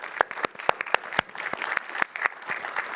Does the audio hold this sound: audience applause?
yes